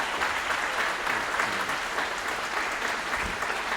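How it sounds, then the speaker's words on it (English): Warm, continuous audience applause welcoming the mayor at a public health talk in Rochester, an even wash of clapping from a room of listeners with no speech. "Please join me in giving a warm round of applause to our esteemed mayor, Malik Evans."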